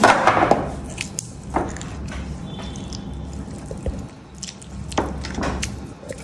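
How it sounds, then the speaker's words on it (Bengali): Dried red chillies crushed by hand into soaked rice with salt, onion and fried egg, giving brittle crackles and soft wet squelches in scattered bursts, close by, with no voices. "শুকনো মরিচটা পুরাই ভেঙে ফেলতে হবে।"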